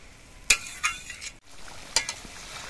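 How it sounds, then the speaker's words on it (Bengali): Bitter gourd simmering in coconut milk in a pot, with a few sharp utensil clinks and stirring taps over a soft steady bubbling, heard close and alone. "এবার এই নারকেলের দুধের মধ্যে কাকরোলগুলোকে কিছুক্ষণ ফুটিয়ে নিতে হবে।"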